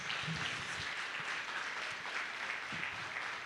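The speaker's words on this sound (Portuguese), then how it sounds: "Você pode aplaudir o Senhor em nome de Jesus?" A church congregation applauds together during a Portuguese-language worship service, a steady broadband wash of many hands clapping that holds evenly throughout, with a few faint low murmurs of voices underneath.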